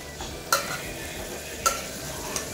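Chicken being stirred into gravy in a pressure cooker, with three sharp utensil clatters against the pot over a faint background hiss and no voices.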